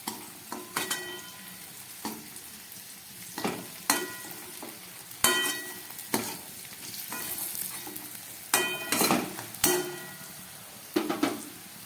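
Potatoes and onions frying in hot oil, a steady sizzle broken by repeated scraping and clanking of a spatula stirring against the pan, each stir rising sharply then settling.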